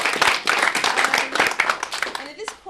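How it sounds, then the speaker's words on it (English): Audience applause fills an annual meeting hall, dense and fairly loud clapping sustained for over two seconds before tapering off, with voices murmuring underneath. "I definitely think we need to give Paul Bisson a round of applause"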